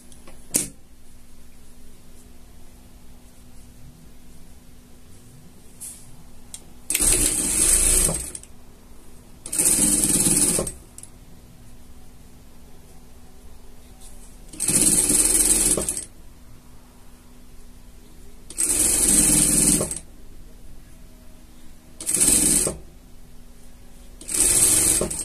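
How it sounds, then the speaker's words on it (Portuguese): A sewing machine stitching pieces of fabric together for a costume runs in six short bursts of rapid whirring stitches, each a second or two long, separated by quiet pauses as the work is repositioned. "a gente vai costura aqui, a gente vai pregar aqui"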